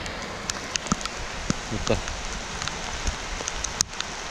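Rain falling outdoors on a cool day, a soft steady patter with scattered louder drops close by, while someone briefly speaks.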